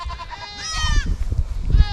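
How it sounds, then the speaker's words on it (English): Farm goats bleating close by, a couple of wavering, nasal calls overlapping against rustling and low thumping noise around the barnyard. "And the goats think they need fed."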